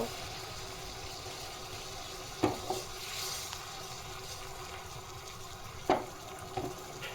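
Tea with tulsi and bay leaves boils steadily in a pot, a soft continuous bubbling hiss with a couple of light clinks partway through, close and fairly quiet.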